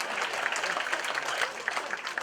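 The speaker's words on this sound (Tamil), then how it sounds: "தட்டிருங்க தட்டிருங்க." An audience at a comedy club show breaks into brisk, close clapping that runs throughout, a dense crackle of many hands with no clear speech over it.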